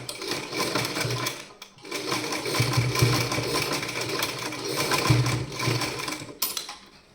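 A sewing machine stitches a cloth bag in runs of fast, even mechanical whirring, close and loud, pausing briefly between bursts.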